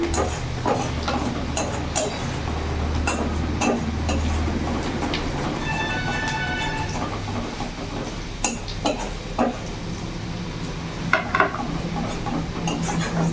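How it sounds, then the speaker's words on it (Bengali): Chopped garlic frying in a pan while it is stirred, a low steady sizzle with repeated scraping and tapping of the spoon, close by and with no voices. "ভেজে নেবো রসুন কুচিটা ভালো করে"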